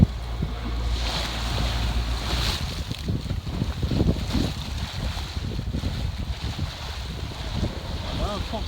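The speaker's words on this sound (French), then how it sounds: "On a du vent force 2." Wind and waves at sea aboard a sailboat heading from southern Chios toward Ikaria in a force 2 breeze, a steady broadband rush of wind noise on the microphone with washing surf, continuous and fairly close, with no talk.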